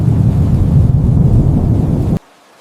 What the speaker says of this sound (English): The storm is approaching